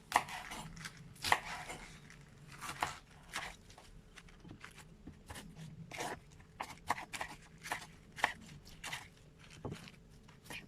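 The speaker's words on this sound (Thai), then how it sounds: "เราก็หั่นผักกาดขาวเสร็จเรียบร้อยแล้วนะคะ" A knife chops Chinese cabbage repeatedly on a cutting board, irregular crisp thuds close by, with soft crunchy vegetable sounds between strokes.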